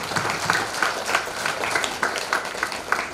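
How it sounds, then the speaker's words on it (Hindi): An audience at a religious discourse claps for a rangoli artist, moderate, fairly steady clapping with a pulsing rhythm throughout. "एक बार बहुत जोरदार तालियां उनके लिए"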